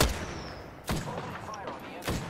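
Gunshots ring out in a shooter video game as another player fires nearby, with three sharp loud reports spaced across a steady background hum.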